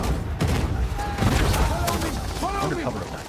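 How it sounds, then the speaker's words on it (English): Battle-scene gunfire in a movie, volleys of shots and booms bursting from all around, dense and continuous under swooping whistles and effects, with a narrator talking over it. "Gunfire erupts from every direction."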